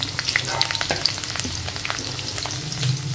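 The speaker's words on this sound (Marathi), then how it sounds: "आता यामध्ये मी लसूण टाकते. आलं परतवून झालंय." Garlic hits a pan of already-sautéed ginger while cooking spiced capsicum rice. A loud, dense sizzle runs throughout with steady stirring scrapes and no voices.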